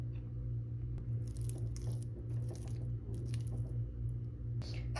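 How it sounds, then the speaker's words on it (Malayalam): Cooked tapioca being mixed with ground paste: soft, wet squishing and light crunchy stirring sounds in irregular bursts, close and fairly quiet over a steady low hum, with no talking. "ഈ അരപ്പ് കപ്പയിലേക്ക് ചേർത്ത് നന്നായി മിക്സ് ചെയ്ത് എടുക്കുക"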